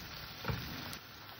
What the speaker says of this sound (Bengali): আমি দিয়ে দিলাম পেঁয়াজ। পেঁয়াজটাকে একটু লাল লাল করে সুন্দর করে ভেজে নেব।